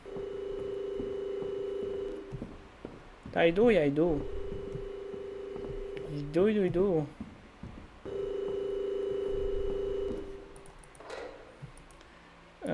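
A telephone ringing in a hotel-set horror video game, repeated trilling rings separated by steady dial-tone-like hums, with a person talking over it.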